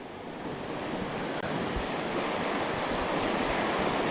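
Elk Creek in the Sawtooth Mountains, water rushing steadily beneath a bridge, a broad continuous hiss with some wind buffeting, fairly close and without voices.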